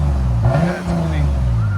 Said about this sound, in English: That's how a Lexus sounds.